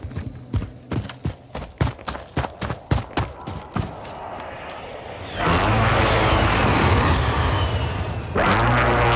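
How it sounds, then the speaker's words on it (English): Call of Duty Warzone UAV recon aircraft on a flyover: a string of sharp thumps gives way to a loud, steady engine roar that holds to the end. "UAV beginning flyover"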